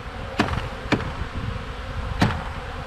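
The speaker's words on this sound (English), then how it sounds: "Try to shake some of these bees down in there." A honeybee swarm being shaken into a box, with a soft steady buzz of many bees and three sharp knocks from the box or frame.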